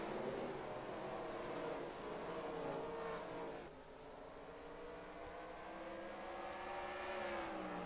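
Race cars in NASCAR Racing 2003 at the Knoxville dirt track roar steadily and loudly, several engines layered with rising and falling revs as the field passes, with a brief dip in intensity midway before the pack swells again.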